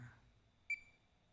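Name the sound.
Fluke 287 multimeter diode test beep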